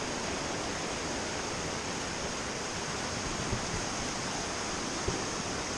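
A muddy mountain creek rushes in a steady, broad hiss nearby in Great Smoky Mountains National Park, with no voices and only a couple of faint knocks.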